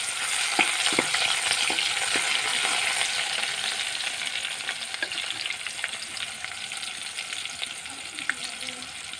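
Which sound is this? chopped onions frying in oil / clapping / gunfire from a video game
chopped onions frying in oil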